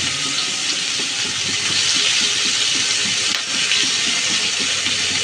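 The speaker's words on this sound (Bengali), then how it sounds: "এখন মাছ ভাজা তেলের মধ্যে দিয়ে দিব কুচানো পেঁয়াজ," Chopped onions hit hot oil left over from frying rohu fish and give off a loud, steady, close sizzling hiss that carries on unbroken throughout.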